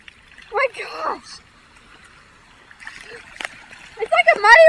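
Splashing through muddy rainwater outdoors on a rainy day, with bursts of sloshing steps near the start and a louder run of splashes at the end, mixed with excited voices talking and exclaiming.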